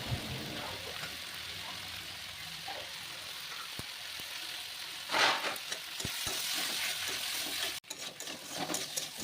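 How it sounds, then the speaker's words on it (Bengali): Chopped tomatoes and green chilies frying in a village kitchen pan with salt and turmeric powder give a soft, steady sizzling hiss with occasional stirring clicks and one louder burst midway. "নুন হলুদ গুঁড়ো দিয়ে টমেটোটাকে ভালোভাবে ভেজে নেব"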